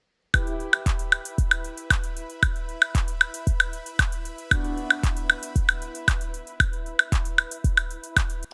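A dotted eighth note rhythm programmed in Ableton Live: a sharp percussive synth pluck repeated steadily about every half second, each hit decaying quickly, alone with no voices.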